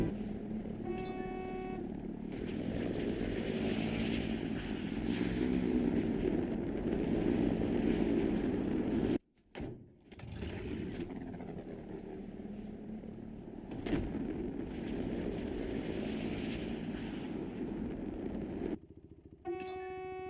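Continuous whirring engine drone with a steady low hum, cut by two abrupt breaks, sounding like a looped aircraft engine; the Falcon helicopter's engine sound in a Halo game, reused from the Mongoose and Wasp vehicles.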